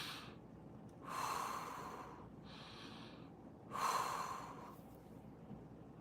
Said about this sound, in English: You take 3 deep breaths.